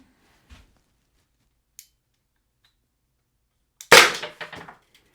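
A Byrna less-lethal launcher firing one sharp, loud shot during a penetration test, a crisp pop followed by brief clattering of the impact, with a few faint ticks beforehand in an otherwise quiet setting.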